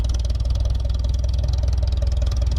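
An Allis Chalmers Model D road grader engine idles close by outdoors, a steady low rhythmic chugging pulse with no voices over it.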